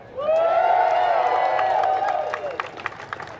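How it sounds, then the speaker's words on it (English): A rally crowd at a voter rights event applauds and cheers in a loud burst, with a sustained whoop rising over the clapping before it thins out into scattered claps. "Let me give a round of applause to that."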